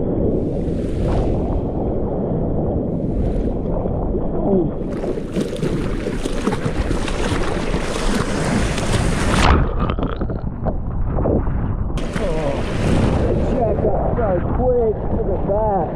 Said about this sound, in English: I'll go out here for a paddle.